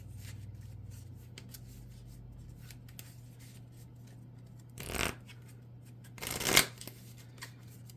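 Marvel Champions cards are riffled and shuffled back into a deck. The soft, quiet shuffling rustle ends in two sharper riffle bursts near the end, with no talking.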